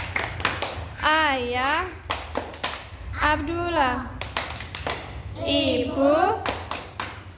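Kindergarten children in an Islamic religion class clap in quick rhythmic patterns while chanting a clapping song together, with a teacher leading, the claps sharp and close between sung phrases.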